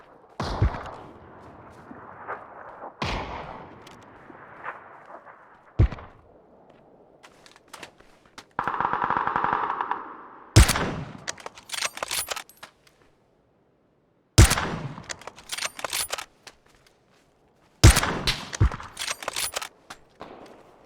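Loud, close rifle shots ring out in PUBG, several single reports and short bursts spaced a few seconds apart, each with a sharp crack and a brief echoing tail, separated by quiet gaps.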